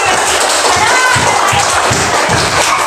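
A group of primary schoolchildren clap together in a classroom during a handwashing lesson, producing a loud, rhythmic run of claps with crowd noise mixed in.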